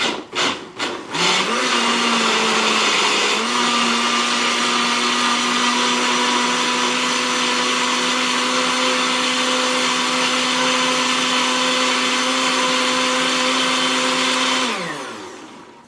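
A kitchen blender whirs steadily as it blends sofrito ingredients, starting with a few short pulses, then running loud and constant for about twelve seconds before winding down.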